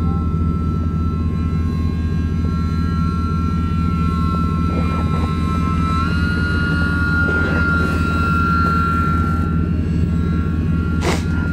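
A scratch-built 60-inch RC snow plane's engine runs steadily at half throttle, a loud continuous droning buzz with a constant pitch, close by and unbroken.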